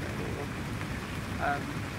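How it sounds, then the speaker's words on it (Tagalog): Rain falls at a beach campsite in Dingalan, a soft steady hiss with a faint brief tone near the middle and no voices. "Ayun, umuulan-ulan."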